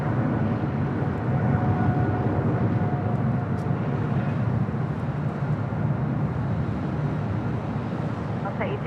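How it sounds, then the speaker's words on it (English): A Boeing 777 freighter rolling down runway 25 left at LAX, a loud continuous jet engine roar heard from a distance with steady broadband rumble throughout. "We do have a 777 freighter rolling down 25 left."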